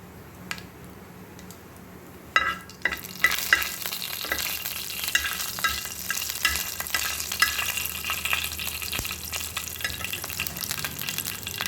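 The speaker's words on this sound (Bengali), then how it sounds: "সর্ষের তেলটা গরম হতেই আমরা দিয়ে দেবো 2টো শুকনো লঙ্কা, আর দেবো কালো জিরে" Two dried red chillies and nigella seeds hit hot mustard oil and begin a steady close sizzle with scattered crackles and spoon stirring, after a quieter moment of light clicks.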